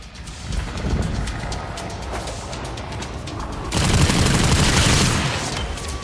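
Explosion and rapid gunfire in the sci-fi shooter Warframe, a dense crackling barrage that swells louder in the second half, with no voices.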